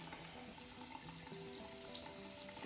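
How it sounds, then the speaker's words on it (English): Tap water running faint and steady into a sink while something is washed with soap, a soft continuous hiss with light splashing and no voices. "I want to just clean this with soap and water so that when I put it back"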